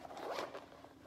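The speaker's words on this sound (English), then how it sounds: "but if you unzip the middle" A quick zipper pull opens the middle section of an expandable bag, one short close rasp heard alone.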